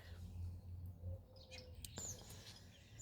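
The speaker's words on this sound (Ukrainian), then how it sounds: "вон голубчик мій співає. Чуєте, як красиво." A songbird sings in a spring garden, giving a few faint, scattered chirps over quiet outdoor background noise.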